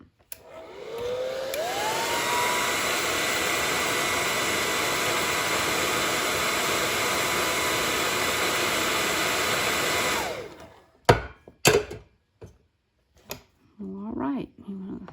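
A hair dryer runs loud and steady for about ten seconds, drying a frayed fabric primitive snowman craft, its pitch rising as it spins up, then it cuts off and a few clicks and handling noises follow, with a voice briefly at the end.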